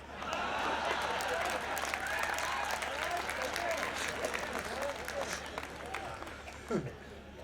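Audience applause at a Hindi comic poetry show, a sustained mass of clapping with crowd murmur and a voice speaking over it.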